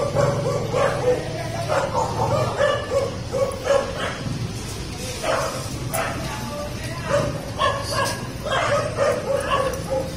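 Several stray dogs bark and yip repeatedly at varying distances, some whimpering, with people talking in the background, during a stray dog roundup in a village.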